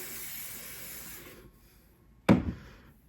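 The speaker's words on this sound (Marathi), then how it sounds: "थोडंसं पाणी स्प्रे करून घेते" A spray bottle mists water onto hair to dampen it before styling: a soft hiss fades out, then one sharp, close spritz bursts and trails away.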